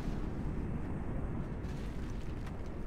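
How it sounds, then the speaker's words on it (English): A nuke detonates in the real-time strategy game Generals Evolution, a dense rumbling blast roar that fills the whole stretch at a fairly low level, with no talking. "That was a pretty quick firing nuke"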